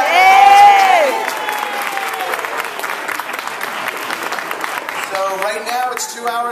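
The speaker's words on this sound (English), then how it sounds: "so guys, a big round of applause" Baby shower guests applaud and cheer in a room, with a voice rising at the start and a crowd of claps and chatter continuing underneath.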